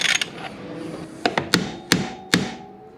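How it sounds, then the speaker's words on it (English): Metal tool tapping a Suzuki motorcycle lowering linkage down onto its bolt: a few sharp, close metallic taps spaced unevenly, each with a brief ringing decay, over quiet workshop background. "This side I'll give a bit of a tap down to."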